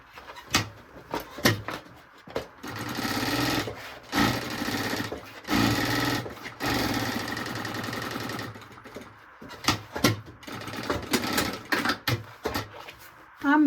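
A sewing machine stitches a strap onto a small fabric zip pouch, running in repeated bursts of rapid mechanical chatter that start and stop, close by, with someone talking between and over the runs.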